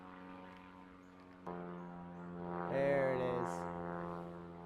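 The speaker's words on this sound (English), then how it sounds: "That was a plane." Propeller plane flying over near an airport, a droning buzz that swells louder midway as it passes close, then eases off; a voice speaks briefly.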